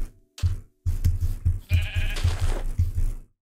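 Blocky sheep in the Minecraft video game bleat in a rapid run of short, loud calls, one after another at close range with no talk over them.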